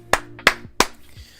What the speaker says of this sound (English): Round of applause for Breezy!